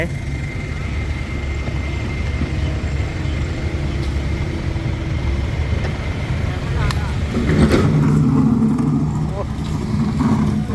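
A heavy tractor engine rumbles steadily at close range throughout, with voices talking over it in Thai and the engine growing slightly louder near the end.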